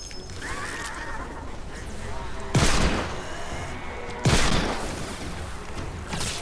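Two loud, sharp hand cannon shots about two seconds apart ring out over a steady background bed of Fortnite: Save the World ambience.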